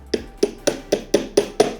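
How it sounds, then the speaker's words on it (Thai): A metal pin is hammered into the shaft of an 18-inch Hatari Slide Smart L1 electric fan, six sharp, evenly spaced strikes ringing close and loud with no other sound. "แล้วก็ค่อย ๆตอกเบาๆนะ"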